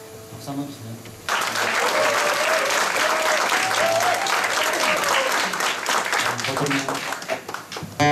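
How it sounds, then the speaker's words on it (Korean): An audience breaks into warm applause at a tribute concert after a brief spoken introduction, the clapping dense and steady for several seconds before easing as the song is about to begin. "박수 한번 주세요."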